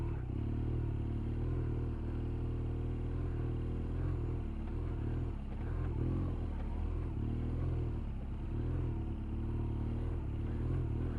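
A BMW R1200GS motorcycle ridden off road, its engine a steady, loud low rumble throughout with rough clattering and scraping from the terrain, no talk.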